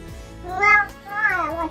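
A cat gives two drawn-out, wavering meows, the first louder and the second sliding downward, close and clear with no talk over them.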